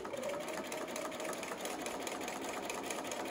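A domestic sewing machine stitches a flannel burp cloth top to bottom, running at a steady, even buzz with a fast mechanical rhythm, close and continuous with no talking.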